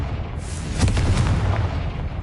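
A Confringo blasting spell explodes in Hogwarts Legacy: one heavy, booming burst with a rumbling low tail that swells and fades over about a second, loud against a steady ambient backdrop.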